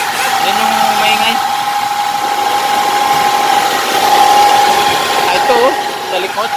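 Grinding from the transfer case of a Hyundai Santa Fe on the road: a constant whirring drone with a steady whine rides over road and cabin noise, while someone talks intermittently.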